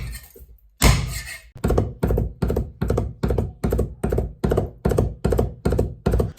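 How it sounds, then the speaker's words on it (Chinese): Garlic cloves smashed once with a loud whack of a cleaver on a board, then minced with a steady run of about a dozen evenly spaced, close, solid chopping thunks, with no talking. "准备几粒大蒜，趁其不备将其拍匀剁碎。"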